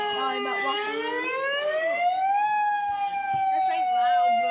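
A siren test: a loud electronic warning siren with strong harmonic tones that sweep upward over about two seconds, then hold a steady high wail. Faint background voices and movement underneath.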